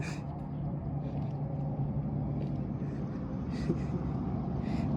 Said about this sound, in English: There's engine sound behind me.